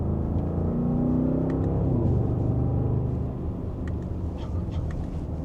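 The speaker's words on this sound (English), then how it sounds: "We'll go into second gear and give it a small acceleration." An Audi RSQ8 SUV pulling away in second gear under light acceleration, a deep steady engine rumble heard from inside the cabin that rises slightly, then eases to a lower drone.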